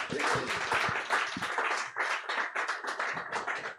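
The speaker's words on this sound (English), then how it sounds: "A round of applause for all of our poets" A crowd applauds steadily, dense clapping from many hands filling the space throughout, with a few stray voices underneath.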